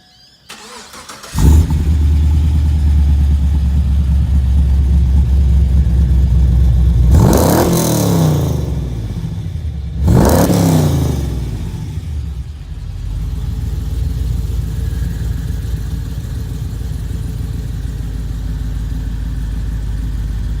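A V8 car engine with a mild camshaft cranks and fires up, settles into a lumpy idle, then revs sharply twice before dropping back to a steady rumbling idle.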